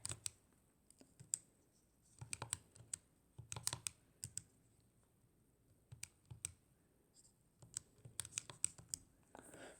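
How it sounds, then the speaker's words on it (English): Numbers are typed on a computer keyboard in short bursts of quick, close clicks separated by brief pauses, quiet and with no voices. "And I'm going to type that in real quick."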